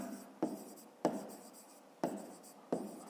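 Pen or pencil writing by hand on paper, working out a fifth-grade maths exercise: four distinct scratchy strokes, each starting with a sharp onset and trailing off, close and fairly quiet, with no voices.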